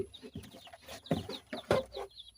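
Young chicks in a heated brooder chirp steadily, with many rapid high peeps overlapping close by and a few louder clucking bursts, and no voices talking over them.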